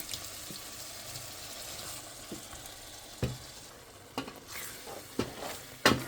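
Browned chicken pieces with fresh spinach just added frying in a pan for palak chicken, a soft continuous sizzle broken by several sharp clinks and scrapes of a spoon stirring, fairly quiet, with no talk.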